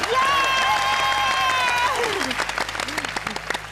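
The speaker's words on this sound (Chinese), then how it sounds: "一起来掌声恭喜风楚" Clapping from a studio audience on a Hakka cooking competition show, starting under a sustained sung or musical tone and then carrying on as dense, steady applause close by.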